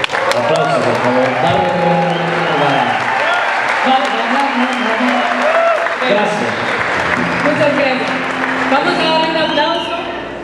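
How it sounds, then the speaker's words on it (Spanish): Audience applause at a Honduran music concert, sustained dense clapping for about ten seconds with some cheering and crowd noise, while a voice carries on over it, tapering slightly at the end. "Aplausos, por favor."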